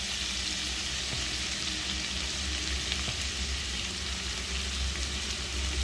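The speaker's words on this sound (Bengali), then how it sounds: "একটু ভাজা ভাজা হোক" Pumpkin pieces frying in a pan with a little turmeric make a loud, dense, continuous sizzle, with faint stirring noises and no voices.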